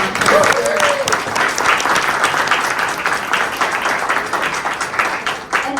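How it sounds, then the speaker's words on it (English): An audience at a meeting bursts into applause, dense and sustained clapping from many hands that stays loud throughout and eases only slightly near the end. "let's give them a huge round of applause"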